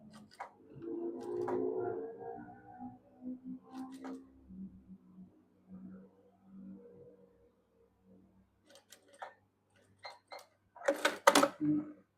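A sewing machine stitching fabric for a baju kurung, heard as short quiet mechanical runs and ticks between pauses, ending in a louder rattling burst, with someone talking softly in places.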